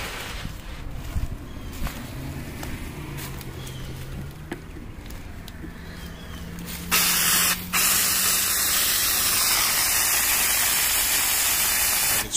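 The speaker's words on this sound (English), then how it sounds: "it will only shoot the water out when I use my nozzle here" Water spraying from a garden hose nozzle, a loud steady hiss that begins partway through after quieter handling and a brief low tone, then continues broadband with a short break.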